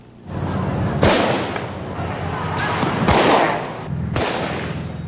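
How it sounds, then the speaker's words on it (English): Soldiers fire blanks or rubber-tipped bullets at students during street clashes in Jakarta's business district in 1998, with several loud, sharp cracks about a second apart over a constant roar of crowd noise. "Students facing off against soldiers firing blanks or rubber-tipped bullets."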